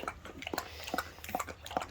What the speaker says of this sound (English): Eat up, boy.